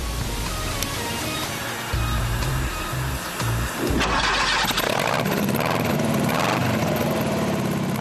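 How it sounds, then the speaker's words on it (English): A 1960s Empi Imp beach buggy's 44 hp Beetle engine, with parts of its exhaust missing, cranks and fires up, then settles into a loud, raspy, steady idle close by. "Its 44 horsepower Beetle engine sounds great with parts of the exhaust system missing."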